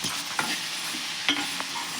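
Seeds dry-roast in a hot pan with no oil, giving a faint, steady sizzle. A couple of light scrapes and taps come from stirring.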